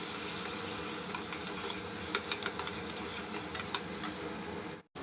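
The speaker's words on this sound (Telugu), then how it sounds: "ముందుగా మనం ఈ ఆనియన్స్ని వేసేసి ఒక్కసారి ఇలా కలుపుకొని ఒక చిటికెడు పసుపు వేసి ఆనియన్స్ని బాగా గోల్డ్ కలర్ వచ్చే వరకు వేయించుకుందాము" Onions frying in hot oil with a pinch of turmeric, a steady close sizzle with small crackles and pops throughout, cut off abruptly at the end.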